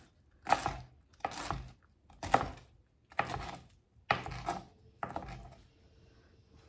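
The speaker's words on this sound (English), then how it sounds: "roll them up, give them a nice chiffonade or a slice." A knife slices through rolled collard greens on a cutting board in six separate passes, each a short burst of crisp crunching strokes with pauses between, close and fairly quiet, no talking.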